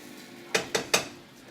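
Egg, parmesan and pepper being mixed in a bowl for spaghetti carbonara: three quick, sharp clinks of a utensil against the bowl, close and alone in a quiet room.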